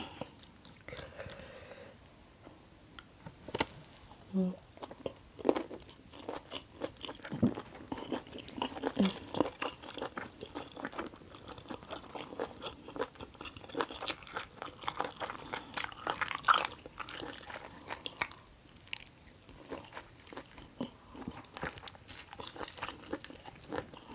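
Crunchy squid miang wrap with briefly blanched ingredients being bitten and chewed up close, a steady run of crisp crunches and mouth noises over about twenty seconds with no talking.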